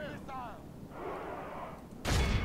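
Flaming artillery fireballs launched in the Medieval 2 Total War video game, a sudden loud burst near the end after a stretch of quieter battlefield sound with a brief voice-like cry.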